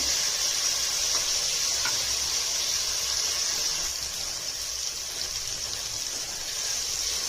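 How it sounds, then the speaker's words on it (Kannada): Tomatoes fry in a pan for kuska rice, making a steady, loud sizzling hiss that fades slightly toward the end, with no talking. "ಟೊಮೆಟೊ ಹಾಕ್ಬಿಟ್ಟು ಚೆನ್ನಾಗಿ ಫ್ರೈ ಮಾಡ್ತೀನಿ. ಟೊಮೆಟೊ ಸ್ವಲ್ಪ ಮೆತ್ತಗಾಗೋವರೆಗೆ."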